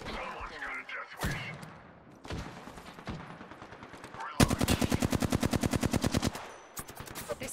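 Gunfire in the video game Apex Legends: scattered single shots, then a long rapid burst of automatic fire at close range and a final short burst, with a voice speaking in places.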